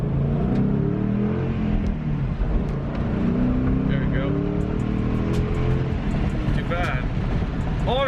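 A manual Ford Mustang GT/CS eases away from a stop onto a main road and accelerates, its V8 engine rumbling steadily from inside the cabin while people talk over it.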